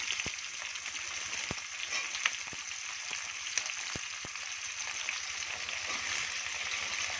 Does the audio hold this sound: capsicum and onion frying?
yes